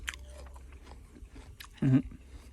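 Someone bites into a crisp Israeli pear, and one loud, close crunch stands out near the end. Quiet chewing and faint noises come before it.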